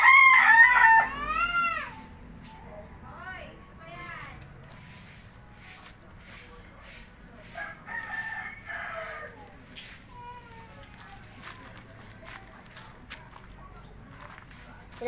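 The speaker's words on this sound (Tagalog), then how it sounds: "Ganyan inaalagaan namin yung manok." Roosters and hens on a Philippine farm crow loudly and close, then keep up scattered clucks and calls alongside faint footsteps and soft background noise.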